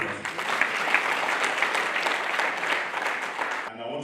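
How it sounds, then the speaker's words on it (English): An audience applauds a leader at a news event: dense, continuous clapping that holds steady for several seconds before cutting off abruptly near the end. "let's give our leader a very resounding round of applause"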